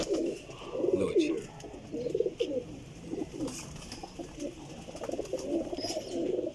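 Parwazi flying pigeons coo close by in repeated low, burbling calls, with someone speaking briefly.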